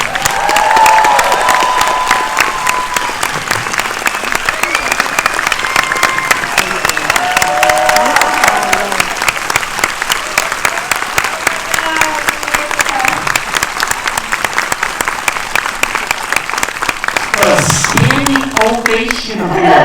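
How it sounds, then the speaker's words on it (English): An audience applauding to welcome film director Lulu Wang at a screening event, loud sustained clapping from a full crowd with some cheering, a voice rising above it near the end. "Big applause"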